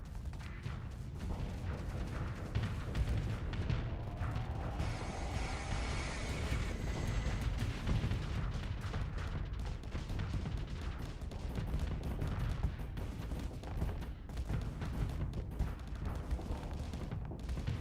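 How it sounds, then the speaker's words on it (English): Missiles launch in rapid succession during a space battle in Starsector, with dense crackling bursts and whooshing streaks layered over a constant loud wash of combat noise. "Missiles, missiles, missiles."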